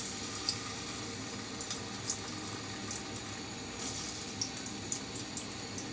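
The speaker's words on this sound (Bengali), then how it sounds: "প্রথমে আমি আলুটা ভেজে নিচ্ছি।" Potatoes frying in a pan produce a quiet, continuous hiss with scattered small crackles and pops, steady throughout and with no voices.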